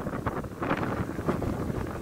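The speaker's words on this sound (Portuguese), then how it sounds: "Tá ventando pra caramba." Gusty wind rumbles across the microphone in uneven bursts, loud and close, with no other clear sounds.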